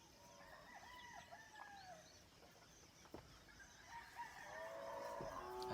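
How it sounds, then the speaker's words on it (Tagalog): Roosters crow repeatedly at a moderate distance, with chickens clucking in between and other fowl calls overlapping toward the end. "Ito yung mga tiktalaog ng manok sa baba dun sa bahay namin."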